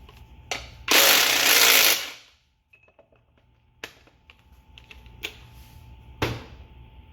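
A box wrench works loose the mounts on a Johnson Evinrude 4 HP Deluxe outboard, giving a loud metallic rasp near the start, then sharp clanks and clicks spaced across the rest.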